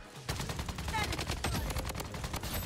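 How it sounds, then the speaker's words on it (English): Dense, loud rapid-fire gunfire in the Bloodstrike shooter game, with bursts of automatic shots crackling continuously over a couple of seconds, up close. "Oh my god, I'm getting shot from this side."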